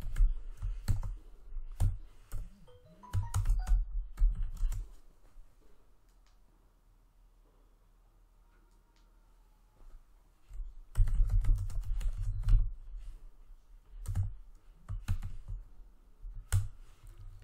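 Python code typed on a computer keyboard, bursts of quick close key clicks with a long quiet pause in the middle before a denser run of tapping resumes, no speech.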